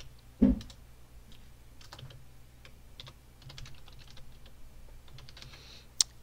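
Someone types a password on a computer keyboard, producing scattered light key clicks at close range with a couple of sharper taps, in a quiet room.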